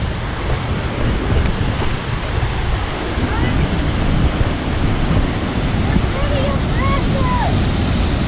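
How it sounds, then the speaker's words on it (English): Lundbreck Falls in Alberta pours with a steady, loud broadband roar of rushing water that fills the whole stretch, with faint bird chirps just audible on top. "We're getting closer to the waterfall."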